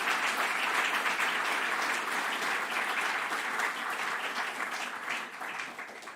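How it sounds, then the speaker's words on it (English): An audience at an open-science symposium session gives warm applause, a dense, steady wash of many hands clapping nearby that holds for about six seconds and tapers slightly at the end. "I want to have a warm applause for everyone, please, now."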